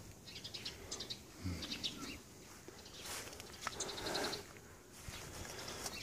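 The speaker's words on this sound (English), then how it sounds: "Birds are giving somebody shit this morning." Several birds chirp and call in short, scattered bursts on a morning in a grove with cut grass, some near and some farther off, over a constant outdoor hiss without speech.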